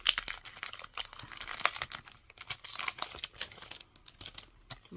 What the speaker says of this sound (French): C'est franchement pas évident de découper les étiquettes.